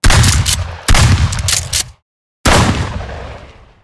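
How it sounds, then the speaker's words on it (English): Pump-action shotgun blasts land as loud close booms: two quick shots with decaying tails, a brief silence, then a third blast that rings out and fades. "I really like these pump action shotgun sound effects as well."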